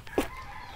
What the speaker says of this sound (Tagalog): Ano yun? Manok.